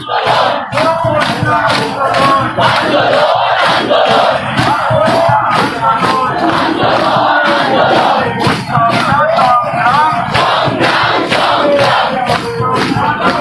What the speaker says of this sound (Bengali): উৎসব না সংগ্রাম স্লোগান উঠছে সংগ্রাম উৎসব না রাজপথ স্লোগান উঠছে রাজপথ